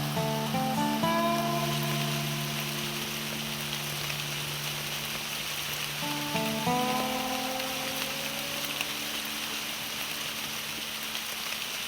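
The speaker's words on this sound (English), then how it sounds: "hopefully the rain will stop and we won't get washed out" Steady rain falls in the Caucasus Mountains of Georgia, a constant close hiss of drops, with a few tonal hums early on and again midway.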